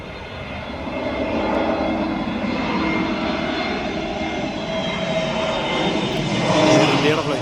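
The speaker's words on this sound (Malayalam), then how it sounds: "ഇവിടെ നിന്ന് ഫ്ലൈറ്റ് പോണതൊക്കെ നമുക്ക് ലൈവായിട്ട് അടിപൊളിയായിട്ട് കാണാം." An Indian passenger jet landing at an airport gives a continuous loud engine roar that swells slightly near the end, heard from nearby with faint voices underneath.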